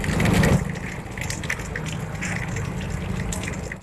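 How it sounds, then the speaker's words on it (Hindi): A steady, continuous gush of water pours from a public tap with its spout missing, beside a vegetable market, with a heavier rush at the very start. "आधारताल सब्जी मार्केट के पास लगे एक सार्वजनिक नल में लगातार पानी व्यर्थ बह रहा है"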